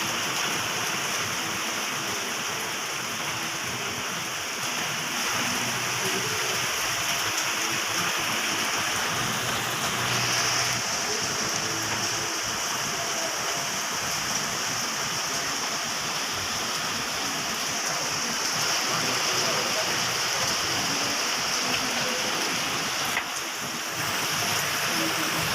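Heavy rain pours down on a roll-on/roll-off ferry crossing the Malacca Strait between Bengkalis and Pakning in Riau, a loud, unbroken hiss of drops and spray mixed with the low rumble of water and the vessel.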